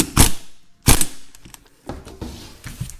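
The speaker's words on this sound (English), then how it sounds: "Thread the nut down. Tighten it using your favorite torque wrench." A nut on a Farmall tractor gear hub is tightened with a torque wrench, two sharp mechanical clicks up front followed by lighter ratcheting and metallic handling noises, close and alone.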